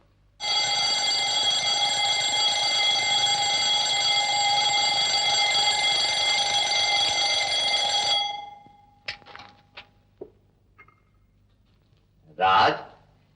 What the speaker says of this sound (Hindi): कब से अलार्म चिल्ला रहा है?